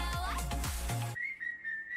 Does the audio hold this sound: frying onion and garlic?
no